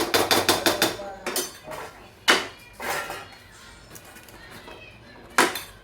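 Lid of an avial pot being set down and shuffled, a quick run of sharp metallic clinks and knocks, then a few isolated louder clanks spaced out over several seconds.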